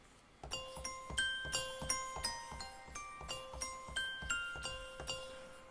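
An old-school acoustic bell preset on a VST synth plugin rings out a melodic sequence of about a dozen struck tones, each chiming clearly with a ringing decay into the next.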